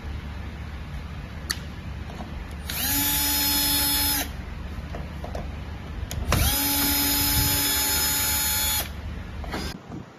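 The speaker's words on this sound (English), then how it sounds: "Next step is to unscrew the screws on the side case" A power screwdriver whirs in two steady bursts of a few seconds each while backing out screws from the side case of a bottom cabin panel, close and clear, with clicks and handling sounds between runs.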